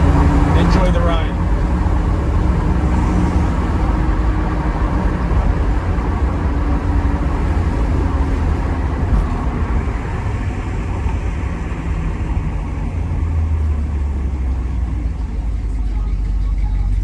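A 1967 Pontiac Firebird is heard from inside while driving, with a steady low engine and road rumble throughout and a voice talking over it at the start.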